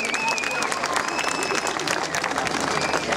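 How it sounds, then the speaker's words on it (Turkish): Steady, dense audience applause for a lute player, continuous and full throughout, with a few whistles or cheers over the crowd. "Ein Applaus für Zeynel Aba."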